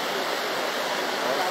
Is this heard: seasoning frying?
no